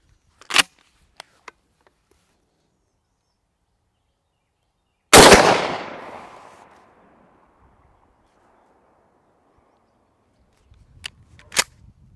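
A shotgun fires a single standard nine-pellet 00 buckshot load outdoors, one loud sharp blast with a long decaying echo, framed by a few faint clicks before and after.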